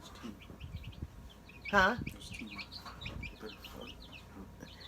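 Newly hatched chicken chicks give a brief burst of high, thin peeping near the middle, set against soft background murmur and a short spoken remark.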